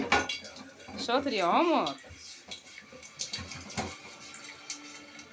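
A young child washing a frying pan at a kitchen sink, with dishes and utensils clattering and water running close by while an adult talks encouragingly throughout.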